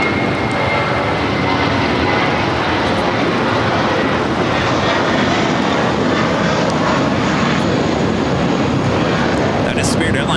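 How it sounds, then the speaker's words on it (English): Spirit Airlines Airbus A320 jet airliner at Los Angeles airport, its engines giving a loud, steady broadband roar that holds the full length with no pause. "That is Spirit Airlines flight 391 heading to Pittsburgh, an A320"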